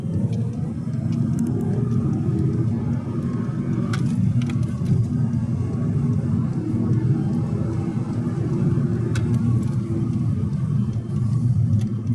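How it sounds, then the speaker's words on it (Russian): A Skoda Octavia 1.8 TSI engine running on LPG drones steadily as the car speeds up, a continuous low rumble with road noise and no talking. "мы сейчас с вами увидели разгон автомобиля на газе"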